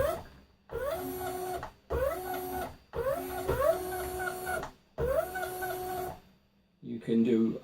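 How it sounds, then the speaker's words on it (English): A precision CNC mill/drill/engraver moves its spindle down onto the workpiece, its stepper motors whining in repeated rising-tone bursts of about a second each with short pauses between, close and clear. "So there it comes down, drops the spindle onto the workpiece"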